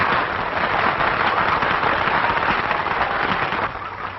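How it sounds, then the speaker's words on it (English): An audience applauds a singer and a composer at a 1949 performance, a dense, steady wash of clapping filling the room and tapering slightly near the end. "They're applauding the hussy."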